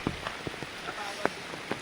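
Rain falling in a Konkan village near Sangameshwar during the monsoon onset, a soft steady patter with scattered close drop taps spread across the moment, fairly quiet and with no talking.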